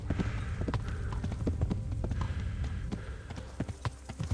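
Horse hooves clip-clop at a steady gait in the medieval video game Kingdom Come: Deliverance, a rhythmic series of close, moderately loud hoof strikes over a faint background hum.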